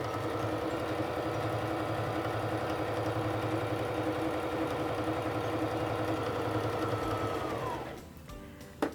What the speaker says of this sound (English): place it under the presser foot, lower the presser foot, and press on the foot control to start sewing